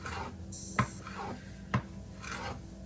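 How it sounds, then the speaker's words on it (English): A knife slicing peeled roasted chiles into thin strips for papas con rajas on a cutting board, with a few soft, close taps and scraping rubs spread sparsely across a quiet kitchen. "after peeling our chiles, we're gonna go ahead and slice them into strips"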